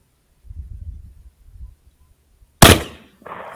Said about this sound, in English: I hit him once, but I had to shoot him again to fully dispatch him.